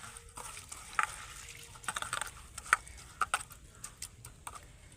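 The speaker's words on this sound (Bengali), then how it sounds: "চিড়ের মধ্যে কিন্তু ধুলোও থাকে প্রচুর সেজন্য কিন্তু দুবার করে জল দিয়ে ভালো করে ধুয়ে নিতে হবে" Flattened rice (chira) washed by hand in water, with soft splashes and sloshing and several crisp, small clicks scattered through a quiet, close background.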